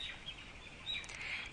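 Broiler chickens crowded by the thousands in a small, filthy factory farm shed in New Zealand give a faint, constant wash of high chirps and peeps, distant and mixed into a low indoor hum.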